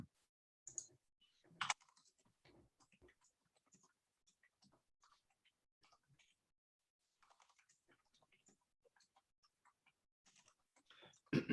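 A computer keyboard types notes during a public planning workshop, with soft, irregular keystrokes in short bursts and pauses, fairly quiet and heard alone in a still room.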